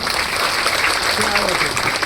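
A crowd claps together at a Shri Datta Jayanti festival gathering on the closing day of a Gurucharitra reading, a dense, continuous burst of applause with some talk mixed in.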